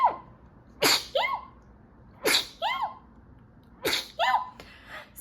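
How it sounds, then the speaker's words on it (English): A person sneezes three times in quick succession with short gaps, each burst sharp and close, followed by brief breathy sounds after each. "And I'm going to sneeze."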